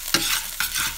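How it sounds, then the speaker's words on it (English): Prawns frying in a battered old pan, giving a close hiss of sizzling with two sharp clatters of stirring within a single brief second, no voices. "Don't burn the prawns, mate"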